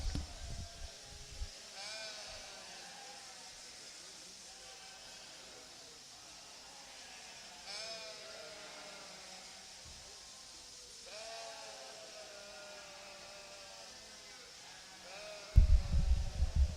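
Tunis ewes bleat in a show pavilion during a national sheep show, several drawn-out calls repeating every few seconds at moderate distance over a hissy hall ambience, ending with a sudden loud thump.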